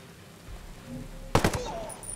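Gunfire in a video game: a quick burst of several sharp shots in rapid succession, loud and close, standing out briefly over a low background hum.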